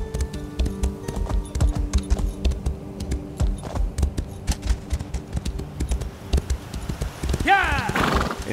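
Clip-clop hoofbeats of a horse running in the video game Elder Scrolls Online, a quick steady rhythm that ends in a loud neigh, with keyboard tapping and a voice heard now and then.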